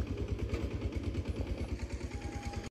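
A hand tractor engine in a farm field chugs steadily with a fast, regular low thumping and light mechanical clatter, running continuously close by before cutting off at the end.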